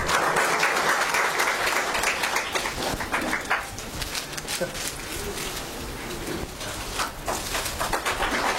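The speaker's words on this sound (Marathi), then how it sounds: "सर्वांनी टाळ्या वाजवून स्वागत करावं" An audience at a career guidance event claps in sustained applause welcoming a guest, filling the whole stretch, loud and dense, with faint bird calls in the background.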